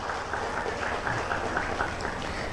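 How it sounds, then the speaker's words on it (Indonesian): Audience applause at an Indonesian political party gathering as the central party leaders stand, a steady broadband patter of many hands clapping, fairly distant and moderately quiet, continuous throughout. "Kasih tepuk tangan untuk ketua pimpinan DPP."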